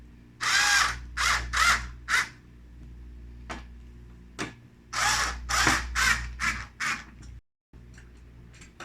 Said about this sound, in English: Go ahead and put these screws in and tighten them.